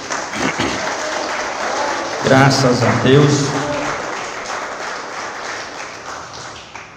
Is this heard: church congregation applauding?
yes